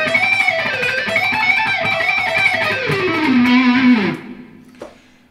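A distorted electric guitar plays a demanding neoclassical shred lick. A blistering, sweeping run of notes plays loud up close and ends on a sustained bent note before a sudden stop and fading ring.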